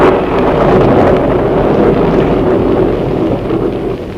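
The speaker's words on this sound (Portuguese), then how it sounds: "A voz de Jesus dominava a fúria do mar e o bramir da tempestade" Stormy sea and roaring tempest effect from a 1958 Brazilian radio drama of the Passion of Christ, a dense, steady low rumble of wind and surging waves, loud and continuous with no voices.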